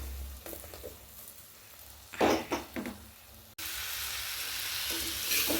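Mango pieces drop into hot spiced oil, setting off a loud burst of crackling and sizzling after a few quieter pops, and the sizzle then settles into a steady hiss with no talking.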